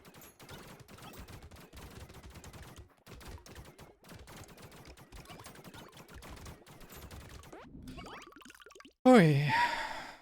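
Turrets from the Pocket Factory item in Brotato fire rapid, overlapping bursts of small popping shots in dense gunfire-like volleys, with a louder sharp game effect at the end.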